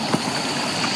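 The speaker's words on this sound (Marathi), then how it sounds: "पाण्याचा फोर्स बघा किती आहे." A strong stream rushes in a dense, continuous wash during a night crab hunt in the Konkan, with no voices over the steady roar.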